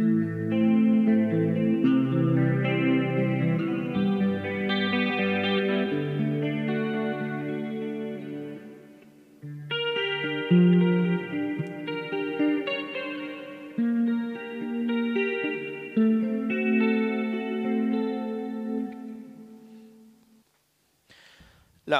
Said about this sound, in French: Là, on a un autre chorus.